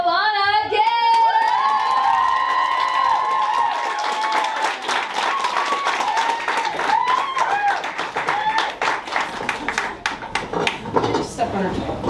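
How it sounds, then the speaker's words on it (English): A comedy club audience claps and cheers for the comedian Alanna in a loud burst of applause that starts under a host's voice and continues as dense clapping and whoops. "Can we please have a round of applause for another local favorite of ours, Alanna again?"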